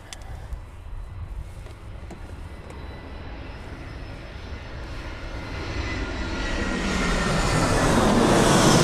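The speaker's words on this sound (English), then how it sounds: "So EasyJet A320 in from Enfida." An EasyJet Airbus A320 arriving at Birmingham Airport, its jet engine roar swelling steadily from a distant rumble to a loud close rush as it approaches, with no talk.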